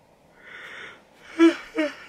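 A person yawns up close: a long breathy drawn-out inhale, then two short voiced sighing releases.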